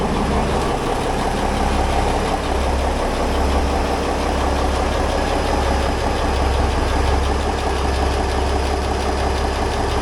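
A boat's inboard engine idles steadily with its alternator running under load, a loud, close, continuous drone with an even low thump throughout and no voices.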